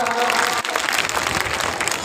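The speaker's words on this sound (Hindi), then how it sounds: "जोरदार तालियों से स्वागत" Loud, dense applause from an audience after a children's stage play, a steady wash of clapping filling the whole stretch with a brief dip near the start.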